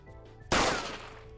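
A single sharp gunshot effect cracks loudly, then its echo trails away over about a second, with no talk in the clip.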